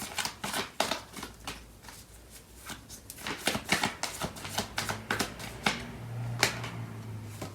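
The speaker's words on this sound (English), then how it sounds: "I'm gonna pull out some more cards from the other deck." Tarot cards are shuffled close up in quick bursts of crisp riffling and flicking, with short pauses between handfuls and a faint low hum underneath.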